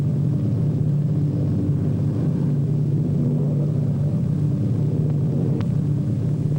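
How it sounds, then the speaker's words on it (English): Steady droning hum of a landing propeller airplane's engine, a constant low buzz with no breaks, moderately loud and fairly near. "Our pilot brings his plane in to a smooth landing."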